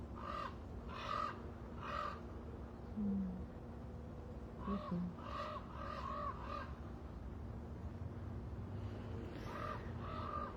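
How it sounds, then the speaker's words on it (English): A crow caws in repeated harsh, rasping bursts, three quick calls then another run of several, moderately distant over a low steady hum, with no talking. "Thank you, crow."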